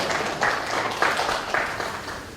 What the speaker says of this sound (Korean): 생산 본부장님께 큰 박수 부탁드립니다.